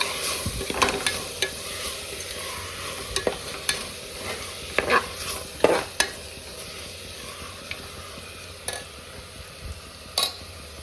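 Chopped fenugreek leaves stir-fried in a pan for avarekalu bath, a soft continuous sizzle broken by scattered sharp spatula clicks and scrapes against the pan, close and moderately quiet, no voices.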